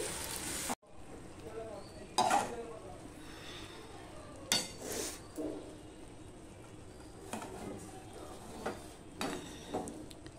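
Urad dal with radish and spices frying in a pan: a steady soft sizzle with several louder stirring scrapes and clinks against the pan at irregular intervals, close by, with no talk.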